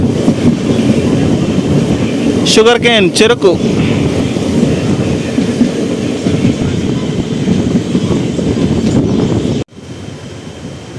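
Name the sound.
train running, Tiruvannamalai to Tirupati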